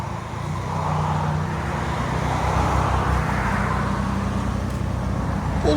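A 2018 Audi A3 S-Line with a 2.0 turbo engine and fully straight-piped exhaust idles and backs up, giving a steady low rumbling drone under broadband exhaust noise.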